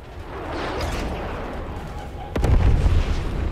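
Grenade explosion in the shooter game Black Ops 6: after a stretch of rumbling combat noise, a sharp, heavy blast hits and leaves a loud low boom that rolls on for about a second.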